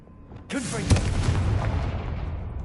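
A Confringo spell explosion bursts with a sudden sharp boom in the video game Hogwarts Legacy, followed by a rumbling roar that slowly fades, with a brief voice just before the blast.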